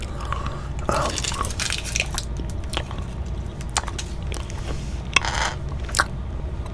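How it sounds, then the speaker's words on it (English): Close, wet gum chewing in an ASMR whisper session, with soft, irregular smacks and crunchy clicks repeating steadily over a quiet background and no speech. "I'm gonna chew this gum."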